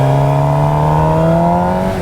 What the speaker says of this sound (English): let's do another wheelie here